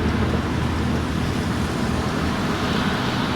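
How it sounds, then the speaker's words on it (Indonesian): Steady heavy rain and road roar inside a car driving on the Bandung toll road near Padalarang, a constant dense wash of noise that stays loud and unchanging throughout, with no voices. "Hujan ya teman-teman."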